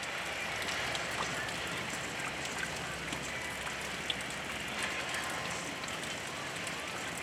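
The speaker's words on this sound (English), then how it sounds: "The rain has arrived." Steady rain falls outside during stormy, windy weather in Kingsport, Tennessee, a dense, even hiss of drops holding at one level throughout, with no voices over it.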